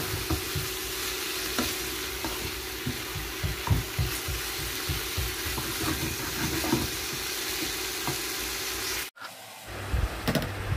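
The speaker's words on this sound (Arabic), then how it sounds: "نكمل انا قلي الزر تاعنا تاع الدجاج" Ginger and chicken breast fry in a pan with a steady, dense sizzle and crackle. The sound drops off abruptly near the end, then returns more quietly. No one speaks.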